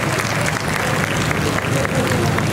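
Loud applause from an audience at a welcoming and felicitation ceremony in Kankavli, with dense, steady clapping filling the whole stretch and a little crowd murmur mixed in.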